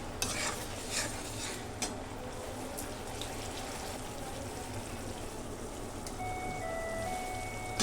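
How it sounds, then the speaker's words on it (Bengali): Tomatoes being stirred and sautéed in a pan, with steady, fairly quiet scraping and stirring over a soft sizzle, and a few light utensil clinks near the start. "তো টমেটোটাও ভালো করে আমি কষিয়ে নেব"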